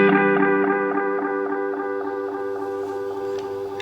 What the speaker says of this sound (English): So you can hear here the repeats are very distinct.